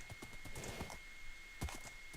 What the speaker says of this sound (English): I think I bred the best horse that I could hope for.